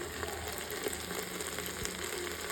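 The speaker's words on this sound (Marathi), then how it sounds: "एक 2 मिनिटं हे तांदूळ व्यवस्थित भाजून घ्यायचे" Rice roasting in a pan for matar (green pea) pulao, giving a steady, close, continuous soft sizzle with faint scraping and no voices.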